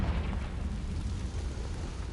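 A Confringo blasting spell goes off in the Hogwarts game, a dense, rumbling burst of noise that fills the whole moment, loud and sustained with no speech over it.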